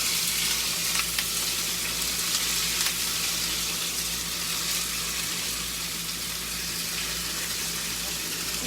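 A pound and a half of cubed beef sizzles loudly in a very hot skillet, giving a constant, close, dense frying roar that holds steady throughout with no pauses.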